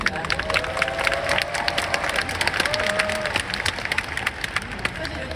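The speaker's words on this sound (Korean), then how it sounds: "네, 큰 박수 부탁드립니다." Audience applause at an open talk for the drama Good or Bad Dong-jae at the Busan International Film Festival, Busan Cinema Center: dense, sustained clapping from a large crowd, with scattered cheers and calls rising above it throughout.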